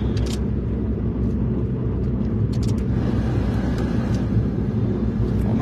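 A car engine runs steadily, a continuous loud low rumble with no talking, joined by a few brief sharp ticks partway through.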